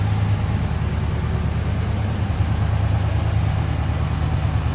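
A 1954 Ford F-100 Stepside pickup with a 239 cubic inch Y-block V8, single carburetor and 3-speed manual, idles steadily and close by, a low rumbling drone with even pulsing and no talk over it.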